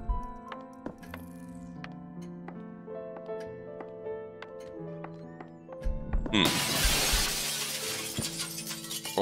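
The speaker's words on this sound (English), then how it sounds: "glass breaking?" Glass shatters loudly in The Sexy Brutale, a bright crashing burst of breaking glass that cuts in sharply over steady game music and lingers as a hissing spray of shards.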